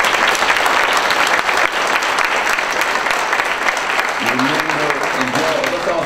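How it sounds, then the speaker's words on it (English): Audience applause rings out at a county commissioner district debate in Forsyth County, Georgia, a loud, dense round of clapping throughout, with a voice speaking over it near the end. "Let's give these candidates another round of applause."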